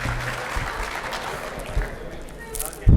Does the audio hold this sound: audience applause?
yes